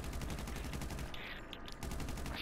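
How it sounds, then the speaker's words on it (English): Heavy machine gun fire in GTA V pounds in a fast, regular rhythm, loud and close, with a brief lull in the middle before the burst resumes. "Oh, I got a heavy machine gun?"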